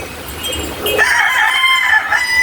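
A rooster crows loudly and close, a long drawn-out call rising over a background of chickens clucking.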